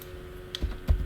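A few Linux command keystrokes typed on a computer keyboard: soft, sparse clicks with a brief sharper tap, close and quiet, no talking.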